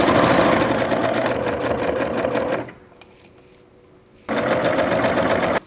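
A domestic sewing machine stitches fabric in loud, steady bursts, running for a few seconds, pausing briefly, then starting again.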